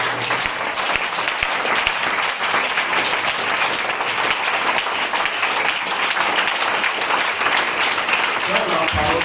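A church congregation at a French-speaking worship service applauds to acclaim the Lord, with sustained dense clapping that stays loud and even throughout and a voice speaking over it.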